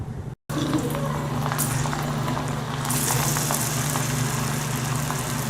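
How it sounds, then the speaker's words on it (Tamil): Spiced, salted cauliflower pieces fry in hot oil for an evening snack, giving a steady, dense sizzle throughout with a low hum underneath, close and continuous after a brief silence at the start. "நம்ம இப்போ இதை ஃப்ரை பண்ணலாம்."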